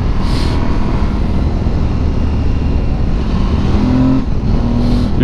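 An Aprilia Tuareg 660 motorcycle running in fourth gear at about 2000 rpm while riding, its loud, steady engine drone mixed with rushing wind and no break in the sound.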